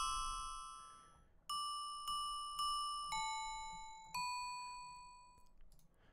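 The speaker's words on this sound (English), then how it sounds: "this guy's ringing a bell right here too" A bell rings in a Zelda video game, giving a sequence of clear, sustained chime tones. Five spaced strikes ring out and decay slowly, fairly quiet and with no voices.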